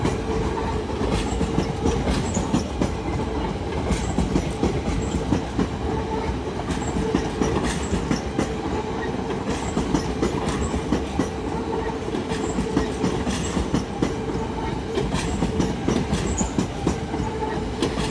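An LNER Class 801 train running from London King's Cross to Leeds passes through Doncaster with a steady rumbling roar and rhythmic clickety-clack of wheels over rail joints, sustained and fairly close.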